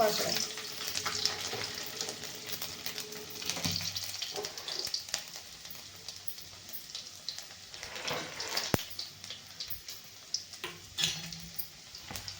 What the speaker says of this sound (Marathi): तेल चांगलं गरम झालेलं आहे आपलं त्यात टाकून घेणार आहे आपण मोहरी थोडे जिरे आणि ह्या लसणाच्या